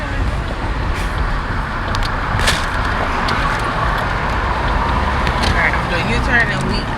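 Car driving and swinging through a U-turn, a steady road rumble and engine drone with traffic noise around it, loud and close, with people talking over it.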